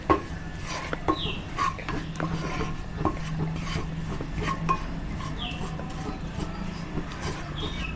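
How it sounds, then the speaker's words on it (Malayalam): Maida flour being stirred into melted butter in a pan over a low flame: a steady soft scraping and rubbing of a spoon against the pan, continuous and close, with a faint low hum underneath and no talking. "ആദ്യം ഈ ബട്ടറിൽ കിടന്ന് ഈ മൈദ ഒന്ന് നന്നായിട്ടൊന്ന് വഴറ്റിയെടുക്കണം"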